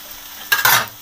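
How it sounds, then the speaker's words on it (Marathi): Tur dal kondale frying in oil in a pan, a brief burst of sizzling as the batter is stirred, close and fairly loud, then quickly settling. "आता आपण थोडं तेल टाकू. तेल जास्त घातल्यामुळे छान असा क्रिस्पी लागतो खायला."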